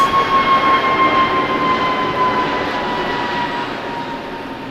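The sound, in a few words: airliner taking off from LAX runway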